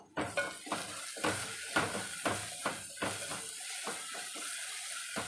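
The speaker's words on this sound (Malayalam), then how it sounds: "മഞ്ഞപ്പൊടി ചേർത്ത് നമുക്കൊന്ന് ഇളക്കി കൊടുക്കാം" Crab roast with turmeric being stirred in a pan, a repeated spoon or spatula scraping and clinking in a steady rhythm over a soft sizzle, close up and fairly quiet.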